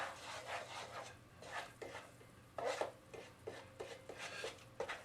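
Flour is stirred into hot fat in a pan for homemade enchilada sauce. Quiet, repeated scraping and rubbing strokes of a spoon against the pan come in an uneven rhythm.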